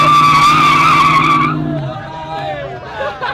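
A U-Haul truck does a burnout at a car meet, its tires squealing loudly and continuously before cutting off, followed by crowd voices and chatter nearby.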